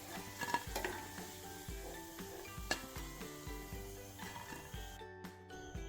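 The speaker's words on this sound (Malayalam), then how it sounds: "അങ്ങനെ നമ്മൾ ഫ്ലവർ മുഴുവൻ നന്നായിട്ട് ഫ്രൈ ആക്കി എടുത്തു" Cauliflower frying in oil for Gobi Manchurian, a continuous sizzle with occasional stirring clicks and taps close by, holding steady before cutting off abruptly near the end.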